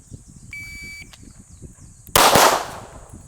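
During pistol training on a range, an electronic shot timer sounds a short steady beep, then roughly a second later one loud pistol shot bursts out close by and trails off in a brief echo.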